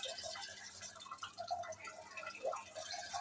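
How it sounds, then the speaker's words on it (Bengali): Lemon juice squeezed from a cut lemon into jhalmuri (puffed rice with cucumber) makes faint, close drips and small wet squelches in a steady run, with no talking. "এরপর ওইটার রস এটার ভিতরে চিপে দিব যাতে টকটক মজা হয়।"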